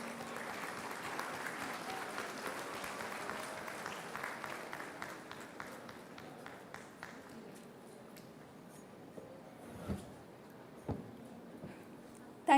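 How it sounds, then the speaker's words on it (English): An audience applauds graduating dual-degree students at an electrical engineering convocation ceremony. The thick clapping is strongest at the start, then thins out over about eight seconds, leaving a quiet room with a few faint scattered claps and shuffles. "A huge round of applause for all the DD students."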